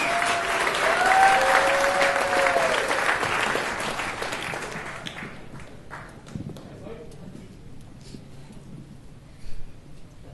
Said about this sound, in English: big round of applause for our next comedian, Mike Foley.